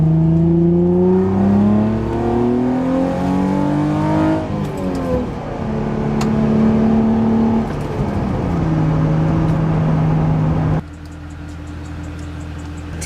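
Infiniti G35 with a manual gearbox accelerating in second gear, its engine note rising in steady pitch sweeps as revs climb, loud and close, then dropping sharply near the end as the throttle eases.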